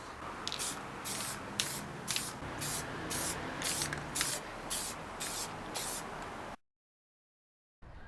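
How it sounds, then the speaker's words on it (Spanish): Repeated short bursts of lacquer spray hissing onto bicycle wheels in a steady rhythm, about a dozen pulses, close by, then a stretch of silence near the end. "voy a pasarle una capa de laca"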